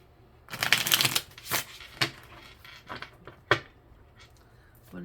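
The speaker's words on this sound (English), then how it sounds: "Let's do another shuffle." Tarot cards shuffled by hand at close range, a burst of riffling followed by several separate soft slaps and taps as the deck is squared, fairly quiet with no talking.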